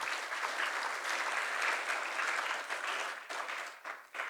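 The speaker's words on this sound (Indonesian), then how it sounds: "Tepuk tangan dulu dong." Graduation ceremony audience at a polytechnic claps in a dense, sustained burst of applause, moderately near, tapering with a few uneven gaps toward the end.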